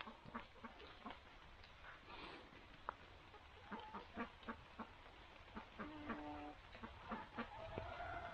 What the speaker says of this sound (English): Just on your left here, you have the chickens and ducks.